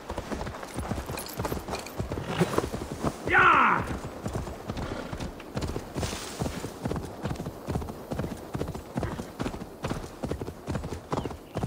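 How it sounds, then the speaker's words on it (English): Horse hooves clip-clop steadily in the video game Assassin's Creed Valhalla, a brisk, regular rhythm running throughout with a short whinny partway through, while someone talks over it. "So we'll call the horse again."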